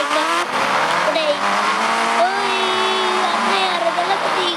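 A motorbike is ridden in a video game: a close engine whine rises and falls through gear changes, with tire squeals and someone talking over it.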